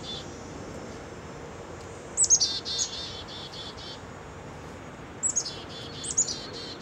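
Chickadees give short bursts of high chirps and calls at close range while being hand-fed outdoors, two clusters of notes over a quiet, steady background hiss.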